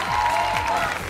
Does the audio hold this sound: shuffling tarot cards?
no